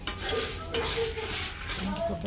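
Dried coconut frying in a pan over a stove with stirring scrapes and light clinks of a spoon against the metal, a faint sizzle underneath, close and steady.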